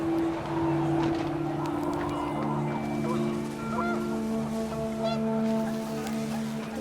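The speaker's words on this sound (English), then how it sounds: "The wind picked up, and panicked geese appeared and quickly went." Panicked geese honk in the video game What Remains of Edith Finch, several overlapping calls over steady wind and layered background music, with a voice speaking partway through.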